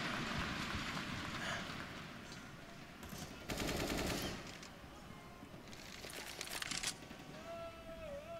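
Automatic rifle fire in Counter-Strike: Global Offensive during a pro match on the Train map, two dense bursts of rapid shots in the middle and later, heard under a constant roar of crowd and game noise.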